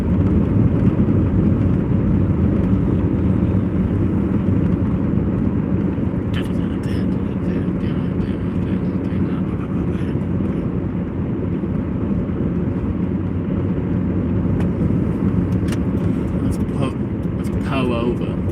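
Road noise inside a moving car: a steady, loud low rumble throughout, with faint clicks and rattles on top.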